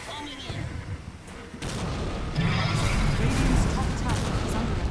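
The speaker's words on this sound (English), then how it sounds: "Extra Diabolic Edict Explosions." Rapid booming Diabolic Edict spell explosions in Dota 2 crackle and rumble in dense succession, with a voice talking over the chaotic battle noise.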